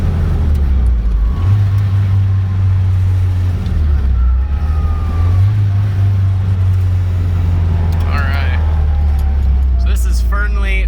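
A restored Nissan S13 on a test drive, engine droning loudly and rising in pitch as it pulls through the gears, with brief dips at each shift and constant cabin noise throughout.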